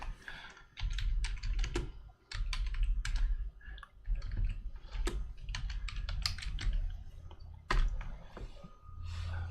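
A terminal command is typed on a computer keyboard running Ubuntu 18.04, producing a rapid, uneven stream of soft key clicks that runs nearly nonstop at close range.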